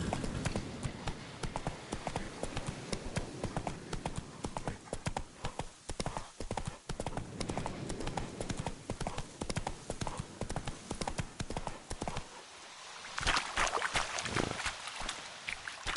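Horse hooves clip-clop steadily and continuously in The Witcher 3, a dense rhythmic patter that runs throughout before thinning out near the end.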